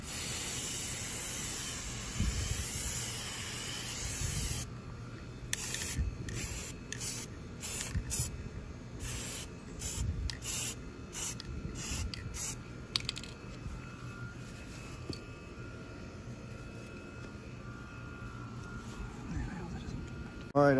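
Short bursts of aerosol spray paint hiss over 20-round metal M16 rifle magazines, a steady hiss for the first few seconds followed by rapid, choppy on-off spurts, with faint background noise.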